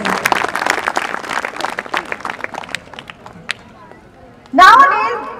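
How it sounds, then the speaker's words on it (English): A crowd at a school annual function applauds top-scoring students, with dense, lively clapping that thins out over several seconds before a loud burst of other sound cuts in at the end. "A huge round of applause for both the students."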